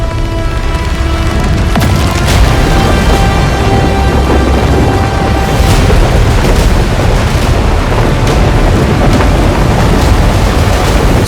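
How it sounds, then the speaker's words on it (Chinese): Orbital lance strike explosions in Total War: Warhammer 40,000, a continuous loud roar of heavy booms and rumbling blasts that fills the whole stretch without a break, with no voices. "我们可以发动轨道光锚打击，对敌军造成毁灭性伤害"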